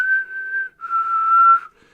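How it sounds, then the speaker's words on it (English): A man whistles a single sustained tune in two long steady notes, clear and close, with a brief pause between them and no other sounds. "Negan goes to investigate this whistling"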